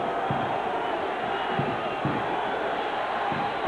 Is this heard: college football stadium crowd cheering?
yes